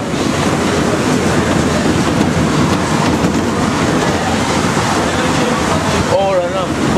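Paris Métro line 11 MP59 rubber-tyred train running, heard from inside as a loud steady rumble and broadband roar throughout, with a brief rising tonal whine near the end.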